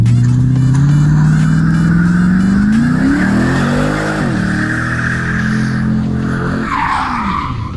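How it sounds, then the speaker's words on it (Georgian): A BMW E46 drift car with an LS V8 engine heats its tyres: a loud, continuous engine roar with rising and falling revs and sustained tyre squeal, close by and with no talk. "ეხლა დიტოს გავასხურებინებ საბურავებს და იქნებ მოიჭიდოს უკეთესად რა."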